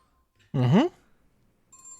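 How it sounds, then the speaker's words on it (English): An incoming-call ringtone on a phone goes off during a podcast recording: a brief rising melodic chirp, then a thin, steady electronic tone starting near the end, fairly quiet against a silent background. "Getting a phone call, so I'm gonna mute myself and take it quick."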